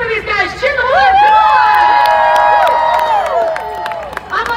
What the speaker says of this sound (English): Make some noise for these guys. Cheer them on.